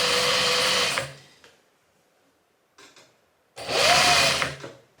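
Sewing machine stitching summer shorts, back panel joined to front, two loud close whirring runs separated by a quiet pause with a brief softer burst between them.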